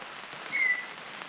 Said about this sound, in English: right now temperatures dropped and the rain set in